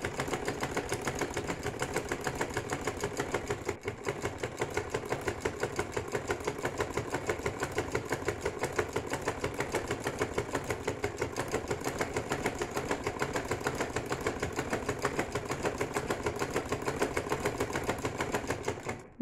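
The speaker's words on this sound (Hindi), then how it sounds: "अब मैं इस पर सिलाई लगा के इसको पक्का कर दूं।" Sewing machine stitching lace onto a baby frock, a steady rapid mechanical whir with even needle ticks running continuously for about nineteen seconds, close and alone.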